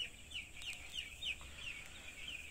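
Broiler chickens in a poultry house holding about 7000 birds give repeated short clucks in a loose rhythm, moderately close but soft, over a low steady hum of the shed.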